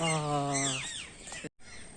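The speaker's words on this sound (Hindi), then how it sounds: "ये देखिए, ये रहा तोता, हमारा तोता।" A parrot in a netted aviary at Guwahati's Assam State Zoo gives a single loud, close call with a rising, warbling tone, cutting off abruptly after about a second and a half.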